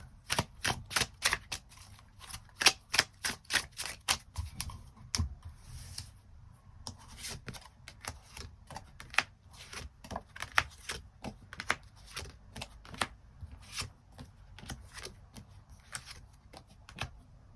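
Tarot cards shuffled and drawn, a long run of crisp, rapid flicking riffles and soft slaps, close and fairly loud, with brief pauses between bursts and no talk.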